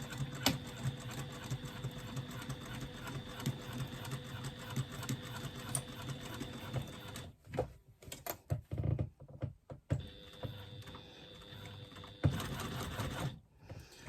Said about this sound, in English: I'm just going to stitch down both sides of my panel using a 3/8 of an inch seam allowance